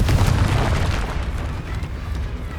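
A Confringo spell in Hogwarts Legacy bursts with a deep, booming explosion that hits loud at once and rolls off into a dense low rumble over a couple of seconds.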